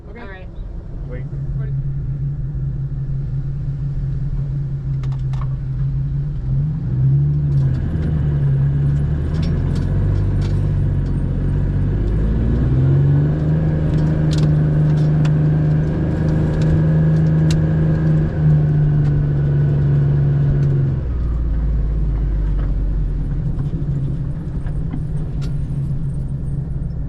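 Off-road vehicles driving out through slippery mud, a steady close engine drone with rising and falling revs, continuous under the cabin, with people talking over it at times.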